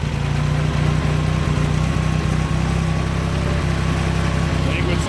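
A Ford 2000 tractor engine, run after sitting for years, idles with a steady low throbbing rumble, close and continuous with a faint rhythmic unevenness.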